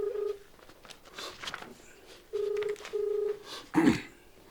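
Telephone call being placed: a quick burst of keypad dialing tones, then two spaced ringback tones on the line, followed by a brief crackle as the call connects; faint and alone, with no talk.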